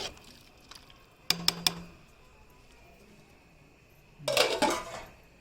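A ladle clanks against a metal pot while stirring rice and vegetables, a quick cluster of sharp knocks followed by a longer scraping clatter over quiet background.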